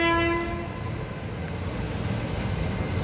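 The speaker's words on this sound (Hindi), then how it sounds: "और हमारी ट्रेन आ चुकी है गोधरा जंक्शन पे।" A passenger train stands at Godhra Junction station, its horn sounding briefly at the start before fading into a steady low rumble of station and rail noise.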